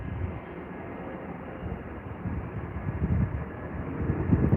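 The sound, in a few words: aircraft arriving on the runway at London Heathrow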